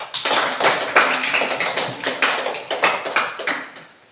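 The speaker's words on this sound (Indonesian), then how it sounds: "coba kita berikan aplaus" Classroom applause rewarding a correct answer, a burst of many hands clapping in a quick, dense patter that stays loud throughout and tapers off near the end, with no talking.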